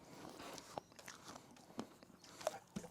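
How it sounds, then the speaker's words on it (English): A person chews food with a few soft, scattered crunches and bites, close to the mic but quiet, with no talk over them. "I can't listen to you chew that"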